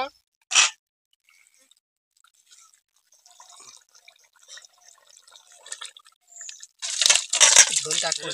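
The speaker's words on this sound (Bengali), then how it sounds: "এবার আমি নামিয়ে নেব, নামিয়ে ঢেলে নেব" Cooked onion chicken poured out of the pan in a traditional Bengali kitchen: after an early sharp clink, soft scattered drips and slides build into a wet, spattering pour at the end.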